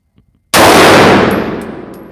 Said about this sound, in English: we're gonna do slow fire, just see how it holds